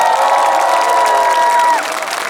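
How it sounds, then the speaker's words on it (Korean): A large crowd at a candlelight rally in Daejeon calling for President Park Geun-hye's impeachment, loud and close with applause and cheering, while a tonal sweep rings above the clapping and then drops away near the end. "눈을 보시면서 뜨거운 박수를 부탁드리겠습니다"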